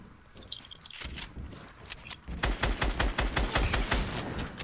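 Rapid bursts of video game gunfire in a battle royale match, sparse shots early then a dense, loud volley of repeated shots in the second half, with no talking.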